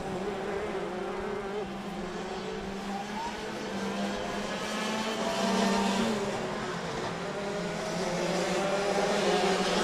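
Shifter karts in an FZ85 heat at Adams Motorsports Park, a steady buzzing drone of small engines rising and falling as they circle the track, at middle distance and fairly loud throughout.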